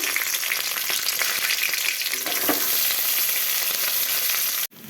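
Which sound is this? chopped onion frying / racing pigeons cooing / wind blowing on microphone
chopped onion frying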